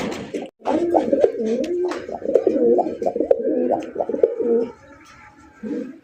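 King-size fancy Garra pigeons with white tails coo in long, rolling, wavering phrases close by, calling almost without a break for several seconds, pausing briefly, then starting again.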